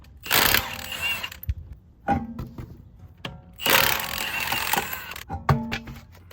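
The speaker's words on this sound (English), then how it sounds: "We'll go ahead and get these wheels removed." A ratchet loosens the lug nuts on a Honda Civic Si so the wheels can come off. Three close, loud bursts of rapid metallic clicking are separated by short pauses.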